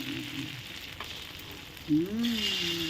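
Beaten egg frying in hot oil for a crispy omelette, giving a steady close sizzle and crackle, with a brief clatter and a tonal squeak near the end.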